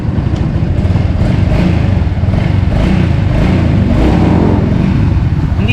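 A 2024 Suzuki Smash 115 FI scooter engine idles steadily and close by, a continuous low chugging hum with no revving, running alone for several seconds.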